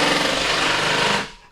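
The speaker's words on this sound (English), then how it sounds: "the pneumatic drill is going off" A loud pneumatic drill hammers in a rapid, steady rattle close by, then cuts off and fades near the end.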